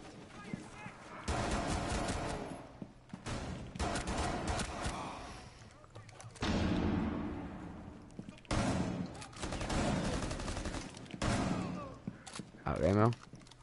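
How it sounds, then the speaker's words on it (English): Gunfire in Rainbow Six Siege comes as loud, repeated pistol-style shots in bursts across the clip, mixed with other in-game action noise. "And then pull out your pistol for long range."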